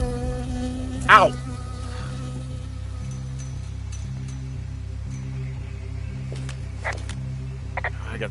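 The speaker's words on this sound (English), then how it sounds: "I got stung by a bee." A bee buzzes in the video game Firewatch, a thin, wavering drone that swells sharply once near the start, while a faint looping background tone runs underneath and soft clicks follow.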